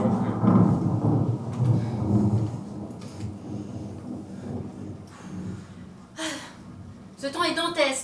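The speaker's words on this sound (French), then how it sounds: "Cet orage me rend malade." Thunderstorm with low rolling thunder and rain in the background, partly under conversation between people, with a few sharper bursts near the end.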